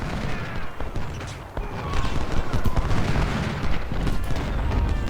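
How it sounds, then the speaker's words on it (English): Continuous musket volley fire rolls through a Civil War battle in the strategy game Ultimate General: Civil War, a dense crackle of overlapping shots that swells and stays loud throughout. "72nd, shoot into the flank of Hobson."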